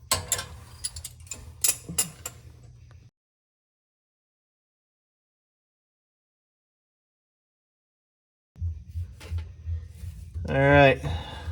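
Exhaust hanger bolts are tightened with a ratchet, quick clicking bursts near the start, then a silent gap, then more ratcheting clicks at the end, with a voice speaking briefly.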